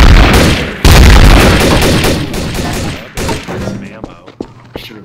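Video game gunfire crackles loud and close in dense rapid bursts that merge into a fusillade with heavy booms, thinning into scattered single shots and thumps toward the end.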